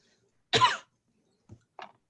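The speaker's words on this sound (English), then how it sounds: "You can't cough" A single sharp cough rings out in a quiet room, followed by a couple of soft, brief throat sounds.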